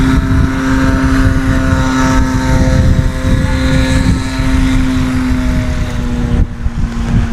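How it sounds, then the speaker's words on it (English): A tricycle gear airplane at a STOL demonstration field sits with its engine and propeller running steadily, a loud, close, continuous drone with a strong tonal hum and buzzing harmonics that holds nearly constant throughout, dipping briefly near the end. "Obviously the first tricycle gear airplane we've seen out here on the field."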